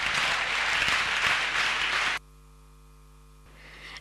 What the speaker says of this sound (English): Please give a big round of applause to the winners.